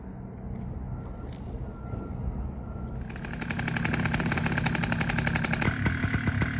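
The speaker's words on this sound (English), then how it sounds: "for some reason I was idling really, really fast" A paramotor engine warms up on the ground, its steady buzz idling unusually fast and jumping noticeably louder and higher partway through before holding a busy, rapid drone to the end.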